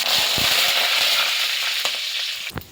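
Cumin and mustard seeds splutter and crackle in hot oil, a steady loud sizzle with scattered sharp pops throughout, close by and with no voices.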